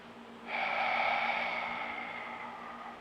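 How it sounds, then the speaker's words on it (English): A single long exhale during a breathing exercise, done lying on the back, comes as a soft, close, breathy rush of air that swells quickly, holds, then slowly fades over a couple of seconds. "we're gonna start with an exhale"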